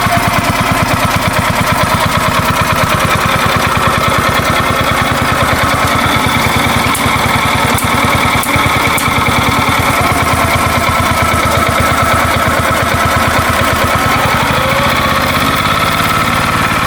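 An old Yanmar engine on a rotary tiller, restarted after years unused with a freshly cleaned carburetor, runs steadily close up for the whole stretch, a loud, even, rapid chugging thump with no talk over it.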